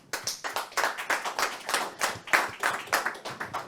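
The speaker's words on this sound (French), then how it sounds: "Déjà, on va applaudir." Audience in a conference room applauding after a talk on open-source compliance, a close, uneven patter of hand claps with a loose rhythm, several people clapping steadily for a few seconds without speech.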